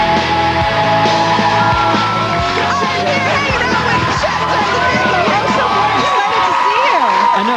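A loud studio crowd of fans screams, yells and cheers nonstop at a 2003 appearance on the TV show IMX, with music blended in and the roar staying dense throughout.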